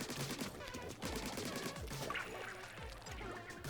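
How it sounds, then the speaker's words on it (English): A Gatling gun enemy in Splatoon 3's Side Order mode fires rapid bursts at the player, a fast chattering stream of shots mixed with game sound effects and a dense busy backdrop. "that enemy with a Gatling gun recognizes immediately, starts shooting and reducing your blocks over here"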